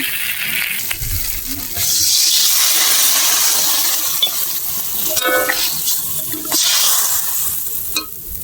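Water poured into a hot kadai of prawn curry with taro, potato and eggplant hisses and sizzles in bursts, with stirring scrapes and a few metallic clinks close by.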